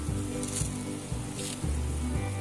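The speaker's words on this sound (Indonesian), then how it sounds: "Rebus sagunya, beri beberapa tetes pewarna." Sago pearls boiling in a pot of water tinted with a few drops of food colouring for hun kwee cakes, a steady bubbling simmer with soft periodic surges and no talking.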